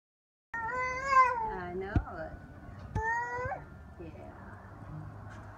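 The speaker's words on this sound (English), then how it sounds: "What is that, Sophie? Cat?" Cat giving a few drawn-out, wavering meows, close and fairly loud, with a short pause between calls.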